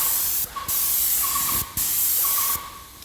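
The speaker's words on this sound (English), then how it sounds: "you go down until you finish your door or whatever you're spraying" A spray gun sprays primer onto a door in steady hissing bursts, three long passes of close, loud spray separated by short pauses with faint clicks of the trigger.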